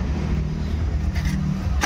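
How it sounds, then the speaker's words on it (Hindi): A Jeep Compass engine running just after start-up following an alternator pulley replacement, a steady low idle hum up close with a brief higher whir near the end and no knocking. "तो अभी इंजन को स्टार्ट करेंगे, देखते हो जो आवाज़ आ रहा था कि गया है क्या"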